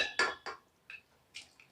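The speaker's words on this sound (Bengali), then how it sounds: "প্রেসার কুকারে আমি মাংসটাকে দিয়ে দিয়েছি।" Cooked mutton being transferred into a pressure cooker: a few sharp metallic clinks and scrapes of a spoon against the pot, spaced apart with quiet gaps, close and fairly soft.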